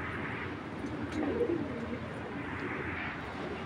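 Club pigeons coo softly nearby, with low, rounded calls rising briefly in the middle over a steady background hum.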